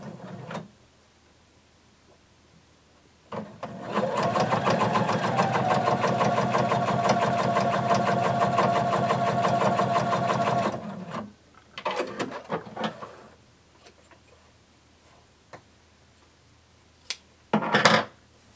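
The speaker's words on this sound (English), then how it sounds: "And you're going to sew close to the edge." A sewing machine stitches a bound seam close to the fabric edge in one steady run of about seven seconds, followed by a few short bursts and clicks.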